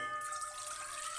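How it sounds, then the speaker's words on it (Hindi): About one cup of water poured into a cooking pot gives a short, soft trickling splash, fairly quiet and steady for just over a second with no voices. "पानी का डाला है"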